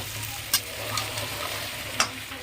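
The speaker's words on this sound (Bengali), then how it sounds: "এই কাজু বাদামের পেস্টটা দিয়েছি পেস্টটা দিয়ে ভালো করে কষিয়ে নিয়েছি" Cashew paste frying in a pan for chicken curry, a steady soft sizzle with a few sharp scraping clicks as a spoon stirs it, close by and alone.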